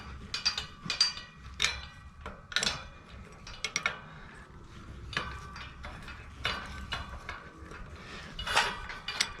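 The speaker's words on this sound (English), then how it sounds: "So usually with a double wrench, you put it in like this and then lever it back." A double wrench levers against a padlock shackle. Close metallic clicks, scrapes and clanks sound in irregular bursts with short pauses between them.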